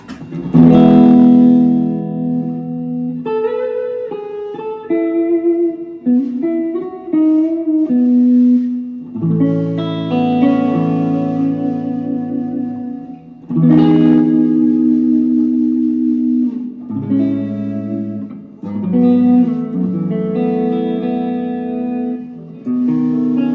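An electric guitar plays through a delay and reverb combo pedal with the mix and decay turned up, sustained notes and chords trailing into long echoing tails, loud and alone with no talk.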